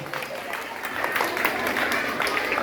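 Students applaud steadily at a school election result, dense clapping that holds at an even level throughout.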